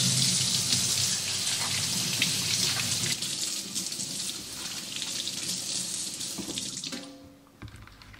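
Vegetables rinsed under a running kitchen tap, a steady broad rush of water splashing into the sink for about seven seconds before the flow cuts off, leaving a few faint clinks and drips.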